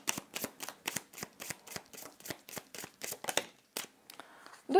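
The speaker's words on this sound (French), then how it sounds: "on va tirer 3 cartes" Tarot cards drawn one after another from a deck on a table, a quick run of crisp papery snaps and slides at a steady rhythm, close and clear with no talk over them.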